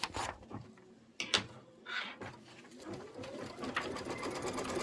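An embroidery machine stitches a placement line for a quilt topping, giving a quiet, uneven mechanical whir with a few clicks and clunks near the start before settling into a steadier run.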